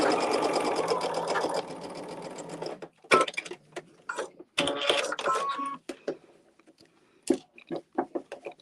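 A sewing machine stitching a quilt block seam, a fast continuous whir for about three seconds, then several shorter bursts of stitching broken by pauses, close and clear.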